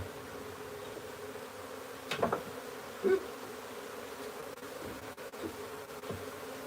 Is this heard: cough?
no